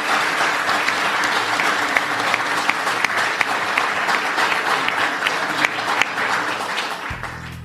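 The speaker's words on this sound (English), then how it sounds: "A round of applause," Audience applauding guest brewers at a beer radio show recording, a loud, sustained burst of clapping with a few sharper individual claps standing out before it tapers off.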